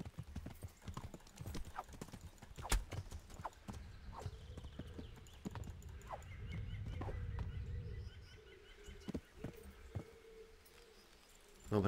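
Horse hooves clip-clop in uneven bursts in the Kingdom Come: Deliverance video game, fairly faint, with a low rumble swelling midway and a few sharper knocks, birds faint in the background.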